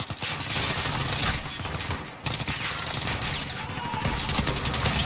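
Dense gunfire from the Modern Warfare campaign video game, with rapid automatic bursts and overlapping shots rattling continuously and loudly. A short break in the shooting comes partway through.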